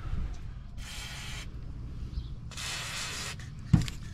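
Two short hissing bursts from a spray can hit seized bolts near the prop shaft under a Nissan 300ZX Twin Turbo, each lasting under a second, over a low background rumble, followed by a brief knock.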